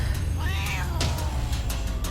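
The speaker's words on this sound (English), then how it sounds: "There was the sound of a cat hissing and yowling" Cat yowling with rising and falling meow-like wails and a sharp hiss-like burst midway, loud and close over a low rumbling background, no talk.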